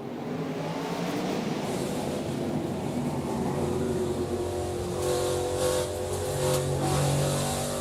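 A pack of race cars in the 2021 Zinsser SmartCoat 200 at Berlin Raceway roar off a restart, a dense, sustained engine howl building as they accelerate, loud and continuous with no voices.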